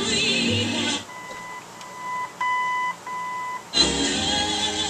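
Several electronic beeps from an original AM radio in a 1969 Chevrolet Camaro, steady tones in short bursts, with a longer beep in the middle, sounding alone between stretches of broadband noise.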